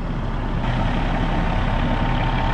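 A 1999 Kenworth W900L truck engine runs at idle, a dense, steady low rumble with broad noise, loud and close for a couple of seconds with no talk.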